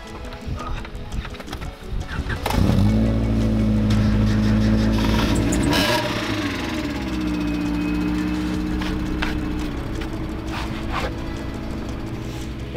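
A Honda Civic or Mazda Miata engine starts up and settles into a steady running drone as the car drives out of snowy terrain, with shifting tones and occasional clicks and knocks.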